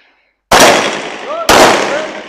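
Two sharp, loud gunshots fired at steel targets during a shooting challenge, spaced about a second apart, each followed by a brief ringing ping and reverberant tail, with no voices over them.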